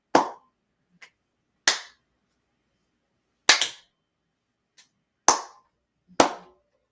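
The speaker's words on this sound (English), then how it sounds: "There are a lot of ways to clap that make different" Several sharp, loud hand claps ring out one at a time with pauses between, plus a couple of faint softer taps.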